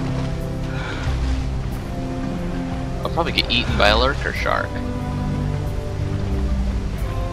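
A waterfall in the Jak and Daxter: The Precursor Legacy video game, a steady broadband rush of falling water continuing throughout, with someone talking over it partway through.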